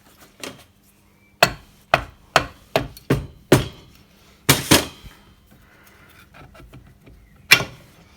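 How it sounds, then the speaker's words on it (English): A rubber hammer drifts a sleeve gear back into a BSA M33 motorcycle gearbox, about ten sharp thuds in an uneven rhythm with short pauses, close by and otherwise quiet between blows. "I'm going to rubber hammer from the far side and drift the sleeve gear back into the box."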